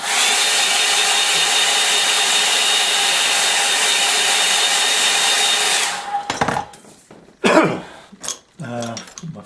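Hair dryer blowing steadily on a watercolour painting, a loud, even close-up roar for about six seconds, then switched off, followed by rustling and a few brief handling noises.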